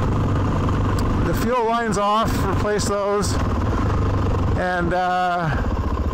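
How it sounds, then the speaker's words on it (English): A Suzuki DRZ 400 motorcycle runs after its carburetor has been tuned, and the engine drones steadily up close while someone speaks over it in short bursts. "the end result is that the bike runs like a top"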